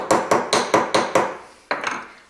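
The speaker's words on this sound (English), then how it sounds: "I'm just going to take a small rounded hammer, place it onto a bench block, and just hammer that part back down" Small rounded hammer striking a metal jewellery pendant on a bench block: five evenly spaced sharp taps, then a pause and a final pair of quick blows, close and crisp.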